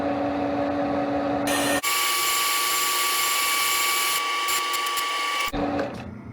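A metal-cutting machine makes a 15 mm cut with a loud, sustained mechanical whine and a steady tone. A burst of rattling clicks comes near the end before it cuts off sharply and trails away.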